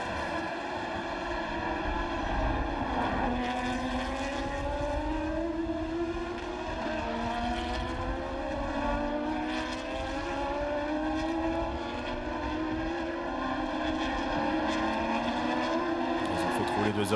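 Formula Renault 3.5 race cars scream around the Hungaroring, engines rising and falling in pitch as several cars pass, loud and continuous under French race commentary.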